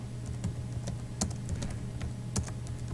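Fingers typing on a computer keyboard, with irregular close key clicks scattered over a few seconds against a low steady hum.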